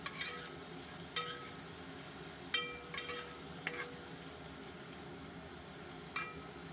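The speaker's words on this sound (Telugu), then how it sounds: "ఇప్పుడు మనకి ఆయిల్ అయితే హీట్ అయిపోయింది. ఇప్పుడు వీటిని ఇలాగ అన్నీ ఒకేసారి ఇలా డైరెక్ట్గా వేసేసుకుందాము. వేసుకుని ఇలా ఫ్రై చేసుకుందాము." Garlic cloves and cashews frying together in hot oil for a chicken pulao, a soft, low background sizzle broken by a few sharp clinks of a spoon against the pan.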